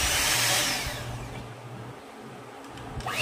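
An electric blender whirs steadily on its lowest setting while blending ice cream, a close continuous motor hum and whine that eases slightly midway and then picks up again.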